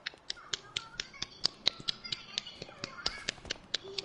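Sharp, evenly spaced claps from one or a few people ring out alone at a steady rhythm on a talk show stage, each crisp slap standing out clearly with no voices.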